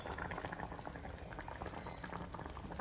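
A pot of Kerala-style mango curry bubbles at a steady boil, a continuous close-up simmering patter with popping bursts throughout.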